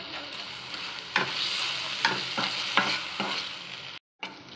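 Ginger garlic paste frying with chicken in a pan, a steady close sizzle broken by several sharp scraping stir strokes, then a brief cut to silence near the end.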